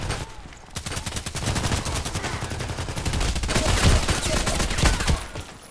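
HK417 rifle fire in a video game: dense, rapid bursts of gunshots crackling almost without pause, loud and near, with the firing swelling toward the end.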